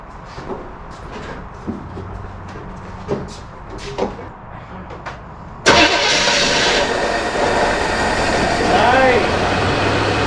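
A 1960s-style Chevrolet Chevelle barn find, freshly tuned with its points set, cranks and fires into a loud, steady idle after several seconds of quiet talking and small shop noises.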